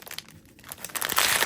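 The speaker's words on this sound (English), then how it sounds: "Thought I'd open all the crinkles with you." Crinkly plastic packaging from a haul of washi stickers and chiffon being opened, a close, continuous crackling and rustling that swells louder toward the end.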